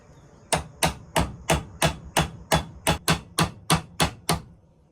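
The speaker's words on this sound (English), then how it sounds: "Tap on that pin right there." A hammer taps the rivet pin on a vintage Schrade knife with a loose blade, twelve sharp, evenly spaced metallic taps close up, with no talk.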